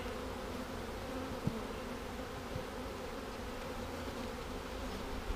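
Honey bees drone softly at the entrance of a hive started from a package in spring, some returning with pollen. Their buzz is a faint, continuous hum with a couple of tiny knocks.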